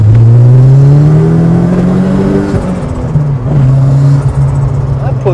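An Audi S2 RS Turbo accelerates hard, its engine note rising loudly and close up through the gears with brief dips at the shifts, and turbo whir over the top.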